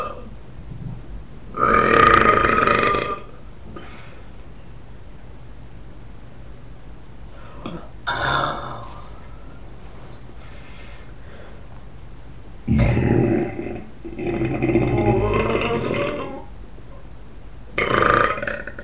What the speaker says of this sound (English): I hope you enjoyed my belches